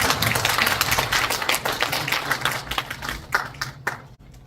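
Audience applause welcoming a speaker at a peace education forum in Pocheon, a broad wash of clapping that stays steady, then thins into scattered claps near the end.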